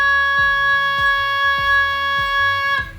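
A goose call blown on a steady, clear, sustained reed-like tone holds without wavering while low rhythmic thumps pulse beneath it, then cuts off abruptly.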